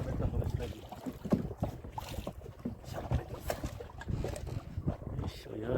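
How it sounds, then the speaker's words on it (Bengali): A fishing boat speeds along a strong river current in the Sundarbans, with steady rushing water and buffeting wind noise close to the microphone, continuous and fairly loud. "তো আমাদের নৌকা কিন্তু প্রচণ্ড স্পিড হয়ে গেছে"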